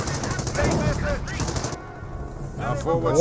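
Rapid bursts of .30 cal machine gun fire in Company of Heroes rattle loudly against Panzer Grenadiers, two long volleys split by a short lull, with battle noise and game voice lines mixed in.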